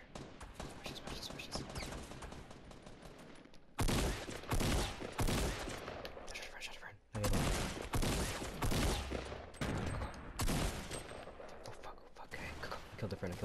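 Gunfire in the video game Fortnite: repeated bursts and volleys of shots in loud clusters, with brief pauses between flurries.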